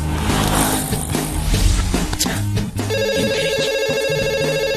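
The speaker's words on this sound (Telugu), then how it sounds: "ఈ ఫోన్ కాడే చేస్తున్నట్టున్నాడు." A phone rings with an incoming call, a steady repeating electronic ringtone pattern heard up close alongside music and background noise, with no talking.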